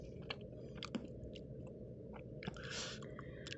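Someone bites and chews a crunchy, spicy Indonesian-style chicken samosa up close, with crisp crackling crunches at an irregular rhythm over quiet background.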